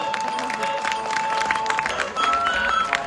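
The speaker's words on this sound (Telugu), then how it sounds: "ఒక్కసారి గట్టిగా చప్పట్లు కొట్టండి." Applause from an audience at a children's school celebration, a steady dense patter of many hands clapping with crowd murmur and a sustained tone running underneath, growing slightly louder toward the end.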